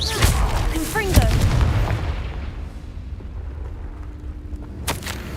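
A Confringo fire-blast spell from the Hogwarts Legacy video game bursts in a loud booming explosion, with a short spoken word over it, followed by a decaying rumble and a faint later pop.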